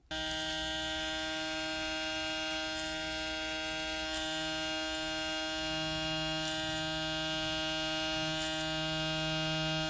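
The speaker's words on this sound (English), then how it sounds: "the crunch on these blades has never been anything pronounced" A BaByliss Dual Coil hair clipper with double vector motors runs steadily at close range, giving a constant electric hum and buzz with a slight crunchy blade texture and no talking.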